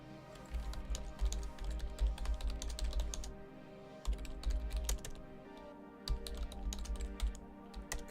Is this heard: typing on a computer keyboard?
yes